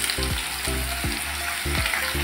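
Potatoes hit hot oil in a pan for a Telugu-style potato curry, setting off a steady loud sizzle with repeated low scraping strokes of a stirring spoon, and no voices.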